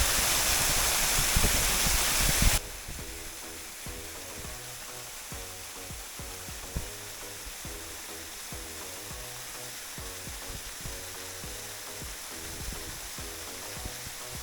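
Waterfall at Lank Chirikso in Karbi Anglong, with a loud, steady rush of falling water at first that drops to a softer, continuous wash, carrying low, faint background sounds.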